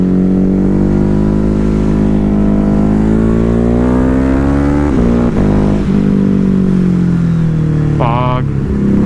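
A Ducati Hypermotard 950 motorcycle engine drones close and loud while riding, its pitch sliding steadily down, then dropping sharply on a downshift, with a brief rev blip near the end.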